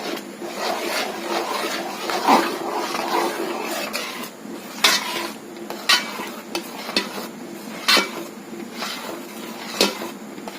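Poha and coconut halwa with cardamom powder being stirred in a pan: a steady soft scraping and gentle sizzle, punctuated by sharper spoon knocks against the pan at irregular intervals, close and alone.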